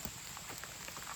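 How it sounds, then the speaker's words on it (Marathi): Heavy rain pours at a night campsite where chicken tandoori is being cooked over a fire, a dense steady patter of drops on surfaces filling the short moment with no voices. "जोरात आला पाऊस."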